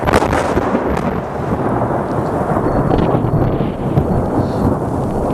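Loud, close rolling thunder from a lightning strike over burnt Douglas fir and pine forest, a sharp crack followed by a continuous heavy rumble lasting several seconds.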